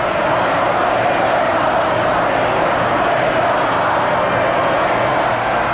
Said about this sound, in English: Wanting still more, the crowd demanded the Queen Mother.